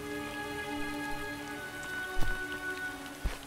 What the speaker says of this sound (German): Ach, doch, doch, klar, hier regnet es.